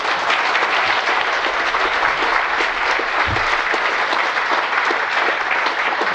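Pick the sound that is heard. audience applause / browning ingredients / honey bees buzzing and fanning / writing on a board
audience applause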